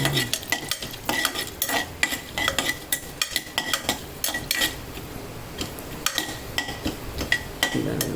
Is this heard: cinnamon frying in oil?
yes